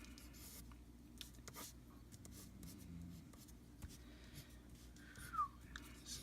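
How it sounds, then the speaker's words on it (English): A pencil sketches on paper, drawing an anime character's arm: faint, intermittent scratchy strokes close by in a quiet room. "now I'm sketching out his arm"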